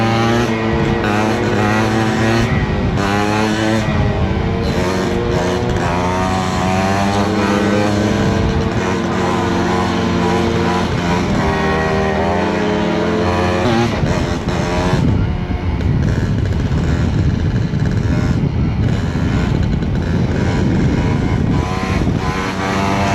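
A motorcycle rides along a remote dirt track, its engine loud and close throughout, revving steadily with rising and falling pitch and rough, gravelly texture.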